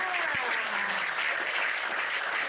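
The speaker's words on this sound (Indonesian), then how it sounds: "Tepuk tangan" A crowd at a comedy show applauds in a steady, even wash of clapping, sustained throughout with no voices heard.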